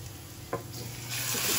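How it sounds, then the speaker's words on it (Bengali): Taro leaves dropped into a hot pan over fried onion, a soft thump and rustle followed by a swelling, steady sizzle that grows louder and fills the rest of the moment, close by. "আমি এখন কচুটা দিয়ে দিব"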